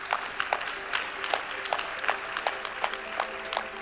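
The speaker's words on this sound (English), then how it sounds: "Big round of applause, of course." Scattered applause for a startup presentation at a business competition final, rhythmic individual claps standing out clearly from a thin, fairly quiet crowd.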